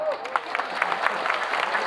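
Audience at a sholawat gathering in Taichung Park, Taiwan, clapping in a brief, moderately loud burst of crowd applause, with a voice over it at the start.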